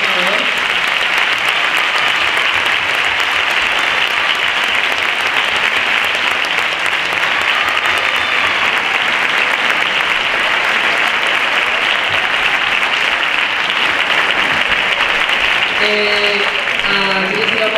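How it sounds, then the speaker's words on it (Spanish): Loud, sustained audience applause greets the choir director at a Christmas concert by a municipal band, dense clapping continuing evenly throughout with a few voices rising near the end. "también darle fuerte un aplauso a Manolo,"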